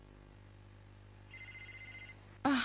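A single trilling telephone ring, somewhat faint over a low steady hum, followed by an abrupt loud burst of noise at the very end.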